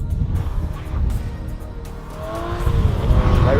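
An Aston Martin V12 Vantage S Roadster accelerates hard, its loud V12 engine note climbing in pitch toward the end over road and wind roar.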